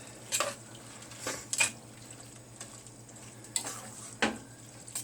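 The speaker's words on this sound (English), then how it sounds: "we're going to throw our bacon in" Bacon goes into a quietly sizzling pan and is stirred, leaving a low steady hiss broken by several sharp scraping and clinking strokes of a utensil against the pan.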